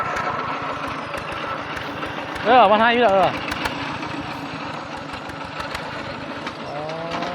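A tractor engine idles with a steady rhythmic chugging, while people talk nearby over it.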